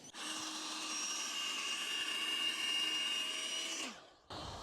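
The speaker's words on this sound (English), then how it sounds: "I've actually got a this blower goes reverse as well, so I can put it on the other way there and jam it in the holes." An electric air blower runs in reverse, sucking air out of an inflatable, producing a loud, steady whirring roar that winds down near the end before briefly starting up again.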